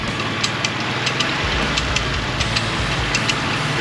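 A stuck Mule utility vehicle's engine gets a little gas, a steady low rumbling drone with a faint rise, close and continuous, no voices.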